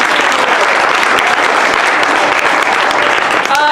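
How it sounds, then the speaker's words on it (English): A theater audience at a Second City improv show applauds its panelists, a dense, loud, continuous wash of many hands clapping at once that holds steady throughout. "Great, let's give our panelists a round of applause."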